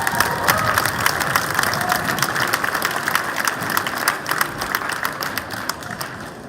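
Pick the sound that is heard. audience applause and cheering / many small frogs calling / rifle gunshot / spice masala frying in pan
audience applause and cheering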